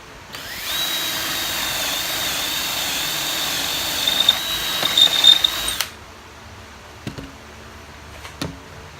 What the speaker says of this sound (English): you clamp it, and you drill it. You drill a hole, one or two, your choice is yours.